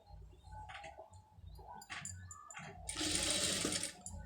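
Sewing machine stitching cloth in a tailoring lesson, with short mechanical bursts followed by a longer steady whirring run, while birds coo faintly in the background.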